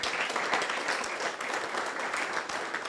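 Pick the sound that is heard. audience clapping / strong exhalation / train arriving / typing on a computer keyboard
audience clapping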